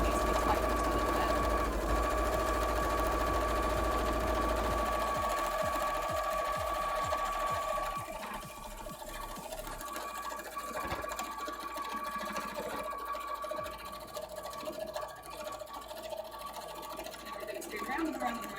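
A sewing machine stitching cosplay fabric runs with a steady rapid mechanical whir and hum throughout, its rhythmic clatter slowing and becoming more intermittent partway through, with a person talking quietly over it at times.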